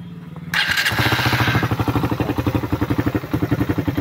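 A Suzuki Raider 150 motorcycle engine, running noisily, starts and then runs with a loud, rough, rapid chugging rhythm, close and clattery, with no voices.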